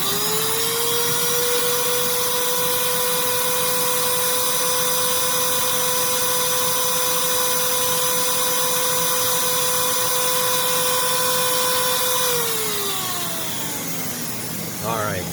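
A refurbished Rainbow R-2800C power nozzle motor runs at speed with a loud, steady whine and fresh brushes seating in, holding an even pitch before spinning down near the end.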